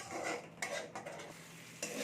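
Thick spice paste being stirred and fried in a pan for a bitter gourd curry, a steady close-up scraping and sizzling with a few sharper spoon strokes against the pan, no voices.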